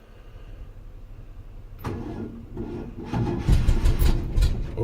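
A 1964 GMC truck engine starting after sitting about a month, a quiet idle background followed by the starter cranking and the engine catching and rumbling louder nearby.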